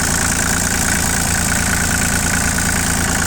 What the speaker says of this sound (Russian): Здесь имеем трехцилиндровый моторчик Киномото. Прекрасно он работает. Все ровно.